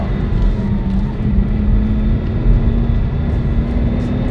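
A Pagani Zonda with a V12 engine running, a loud steady low engine drone holding a constant pitch with faint road and wind rush underneath.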